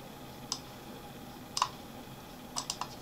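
Several sharp key clicks from a computer keyboard as a spreadsheet formula is typed, sparse taps in small clusters, close and fairly quiet with no talk.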